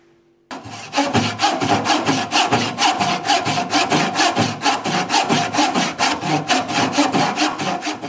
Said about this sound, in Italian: Adesso posso procedere con i tagli delle fenditure in cui andrò a inserire la lama utilizzando questo seghetto estremamente sottile.